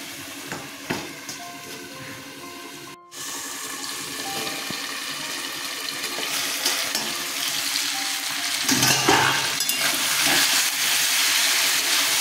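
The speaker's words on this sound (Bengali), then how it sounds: "আমি এখন এটা কষাচ্ছি।" Lemon chicken stir-fried (koshano) in a pan gives a steady sizzle with occasional stirring scrapes, growing louder and more intense toward the end, close by and without talk.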